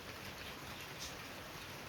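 Rain falls as a steady, faint hiss of drops on surfaces, continuous and even with no voices.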